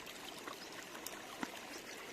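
A village river runs over stones in its channel, giving a soft, steady rush of flowing water with a faint splash or two, heard alone and fairly quiet.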